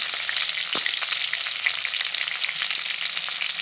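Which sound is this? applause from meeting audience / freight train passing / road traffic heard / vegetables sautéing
vegetables sautéing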